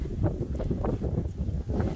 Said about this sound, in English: Maar die wind, hè.